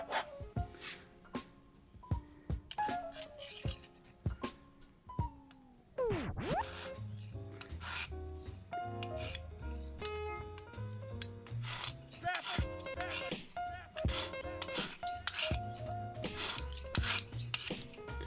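A knife is drawn across the coarse oiled stone of a Lansky sharpening kit, giving repeated dry rasping strokes in an uneven rhythm, quiet and close with brief pauses between passes.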